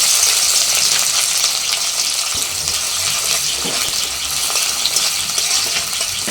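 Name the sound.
chopped onions frying in oil with bay leaves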